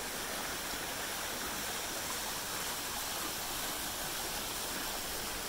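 The River Nile flowing beside a safari lodge in Uganda, a steady, loud, unbroken rush of water that fills the whole clip with no voices over it.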